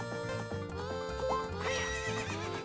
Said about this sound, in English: I don't ever want to see a horse in a Legend of Zelda video game again.